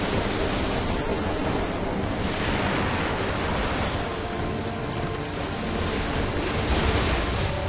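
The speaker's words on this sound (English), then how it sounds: "I'm not quite sure waves like that are natural." Ocean waves in Final Fantasy X surge as a steady, loud, broad roar with a gentle swell and no pauses, heard alone without talk.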